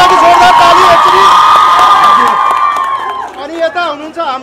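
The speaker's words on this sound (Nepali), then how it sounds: "गौरव सरको लागि जोरदार ताली एकचोटी" A hall audience cheers and whoops loudly for a speaker being introduced on stage, a dense close crowd roar that fades after a few seconds into scattered shouts and voices.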